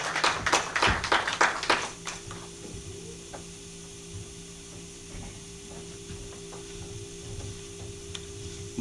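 A church congregation claps hands in a service, with a loud burst of claps for about two seconds before it drops to a quiet room with faint scattered knocks and a low steady hum.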